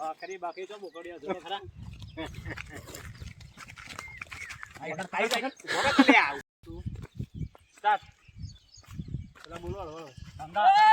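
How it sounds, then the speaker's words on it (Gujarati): A goat bleats a few times, quavering cries mixed in with people talking nearby and some background rustling. "આ જો બકરો ફરે છે બકરું બકડ્યું બોકડ્યું"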